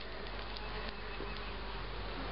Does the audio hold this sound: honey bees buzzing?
yes